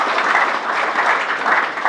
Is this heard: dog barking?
no